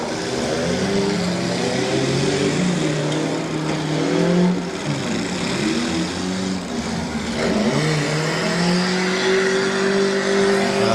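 A front-wheel-drive demolition derby car at a county fair derby revs and drives near, with its engine note rising and falling through gear shifts across a loud, continuous stretch.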